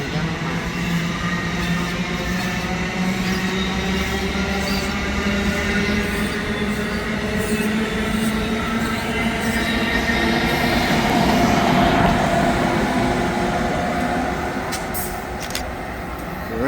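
An Amtrak ALP-45DP locomotive hauling eight multi-level cars rolls past a station platform on the Northeast Corridor at Metropark, a loud, steady rumble and clatter of wheels on rail that holds throughout and eases slightly near the end.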